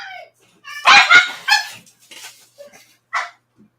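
A dog barks and yips in several sharp bursts, loud and close, with a whimpering tone in the short calls that trail off between barks.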